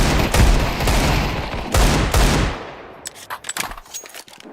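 Rapid bursts of gunfire from the video game Valorant, a loud sustained volley of shots that cuts off into a few sharper isolated cracks near the end.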